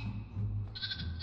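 A sheep named Willie bleats in a wavering, nasal cry that lasts about a second, fairly close and alone, with a brighter upper strain rising toward the end.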